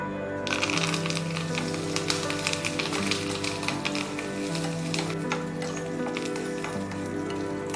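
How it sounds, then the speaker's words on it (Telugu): Curry leaves crackle and spit in hot ghee with a dense, steady patter of tiny pops throughout, close and moderately loud, while a low background hum runs underneath. "అదే గీలో కరివేపాకులను కూడా ఫ్రై చేసేసుకుంటున్నాను"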